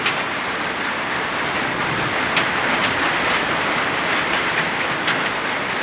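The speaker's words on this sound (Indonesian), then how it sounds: "Hujan es, hujan es." Hailstorm pelting down in Lebakbarang, Central Java, a dense, steady hiss of falling ice with scattered sharper impacts, loud and continuous throughout with no talk.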